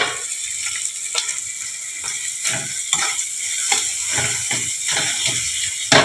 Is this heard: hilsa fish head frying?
yes